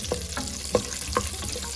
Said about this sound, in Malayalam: നമുക്ക് ചെറുതായിട്ടൊന്ന് ഇളക്കി കൊടുക്കാം.